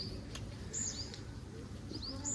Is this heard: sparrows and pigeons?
yes